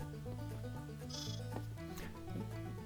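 Sheep in Minecraft Bedrock Edition bleat several times in quick succession, with overlapping nasal calls at close range against a busy game background.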